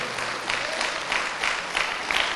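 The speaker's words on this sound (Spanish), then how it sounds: "Ahora denle un aplauso bien fuerte" A church congregation claps loudly together, dense steady applause from a crowd filling the room, with a slight rhythmic pulse throughout.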